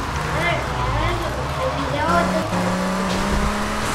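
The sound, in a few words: car driving in video game GTA Vice City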